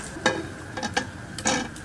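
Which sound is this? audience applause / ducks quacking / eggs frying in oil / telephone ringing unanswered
eggs frying in oil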